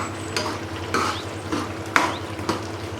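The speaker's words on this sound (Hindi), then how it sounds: "अब हम इसे अच्छी तरह घोट लेंगे और ये पानी को खुश्क करेंगे" A spoon scrapes and mashes cauliflower and spinach in a cooking pot on the stove, with a soft, steady sizzle of cooking underneath and about four distinct scraping strokes, close by and without talk.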